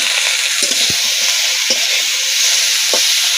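Cauliflower curry frying in a pan, with loud, constant sizzling and several distinct knocks and scrapes as the mixture is stirred, heard up close without speech.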